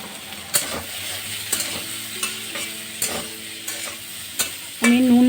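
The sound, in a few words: bitter gourd frying in pan with salt and turmeric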